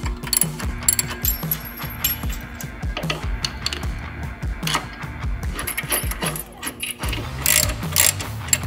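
Ratchet clicking repeatedly while snugging shock bolts on a Harley touring bike during a 2-inch lowering kit install, close, with short bursts of clicks and some metallic clinks.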